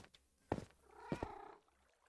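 Cats meow in Minecraft, two short close mews about half a second apart followed by a longer drawn-out meow, fairly quiet with no talking.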